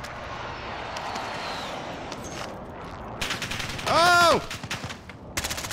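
Gunfire in the video game Warzone: quiet ambience breaks into loud rapid automatic bursts and rattling volleys, with a voice shouting briefly among the shots.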